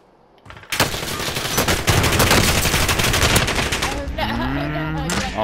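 Rapid gunfire in the video game Call of Duty: Modern Warfare: loud, dense bursts of automatic shots crackle continuously, followed by sharper single reports and a whooshing, tonal game effect near the end.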